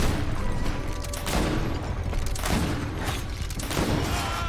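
Gunfire in the video game GreedFall, a dense, booming volley of shots rolling in waves over a constant loud low rumble, with no voices.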